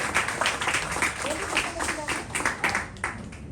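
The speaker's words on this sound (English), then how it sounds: "A big round of applause for Ranga." Moderate applause from colleagues at a farewell gathering, a loose patter of individual claps that sounds fairly close and continues unevenly for a few seconds.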